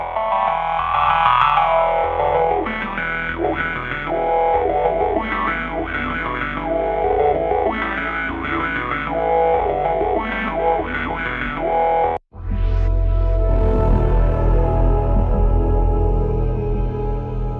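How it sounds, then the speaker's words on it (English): Ummet Ozcan Genesis Pro synthesizer playing through a run of heavy effects, distorted, chorused and echoing tones sustained loud and dense, briefly cutting out near the end before returning with a deep bass-heavy sound. "I created all the essential high-quality effects you can use."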